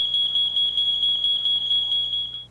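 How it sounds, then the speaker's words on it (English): A smoke alarm beeps in a rapid, continuous high-pitched shrill, loud and steady throughout. "The smoke detector goes off"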